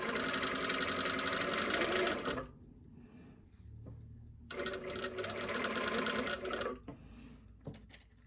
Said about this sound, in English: I'm going to sew along them